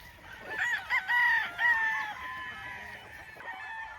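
Gilmore straight comb gamefowl rooster crows on a farm, one clear, fairly close cock-a-doodle-doo that rises and holds for about a second and a half, with a brief second call and faint farmyard noise around it.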